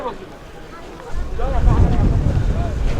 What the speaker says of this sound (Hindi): बहुत ही तेज यहाँ पर हवा चल रही है, जैसा कि आप वीडियो में भी शायद सुन पा रहे हो।